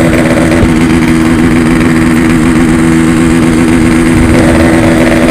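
Yamaha RX-King motorcycle engine running steadily, a loud, close two-stroke drone with a constant buzzing tone and slight rises in pitch near the start and end, no talk.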